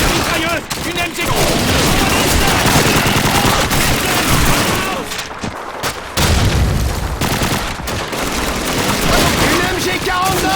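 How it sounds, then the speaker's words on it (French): German MG42 machine gun fire in the World War II shooter Call of Duty 2's Russian campaign: dense, loud bursts and booming shots that barely let up, with brief gaps and soldiers shouting in the mix. "Mitrailleuse! Une MG!"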